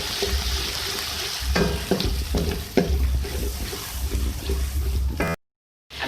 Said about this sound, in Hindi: आप इसमें अदरक लहसुन का पेस्ट डाल दें। साथ हम इसको भी फ्राई कर लेंगे।